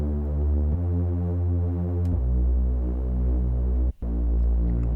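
Layered synth pad built from square, saw and sine waves for a deep bass house track, holding sustained chords that change every couple of seconds with a brief dropout near the end, steady and full with no talking.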